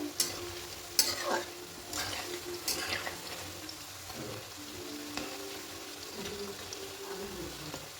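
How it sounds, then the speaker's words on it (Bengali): Coconut pitha stuffed with mung dal and sweet potato frying in oil, a steady soft sizzle under gentle spatula scrapes and a few sharp taps against the pan, close by, with no voices. "আলতো করে খুন্তি করে এবার নেড়ে দেবো"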